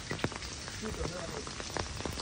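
Heavy rain falls around a lake, a dense steady patter on nearby surfaces, broken by a few brief louder knocks and faint background voices.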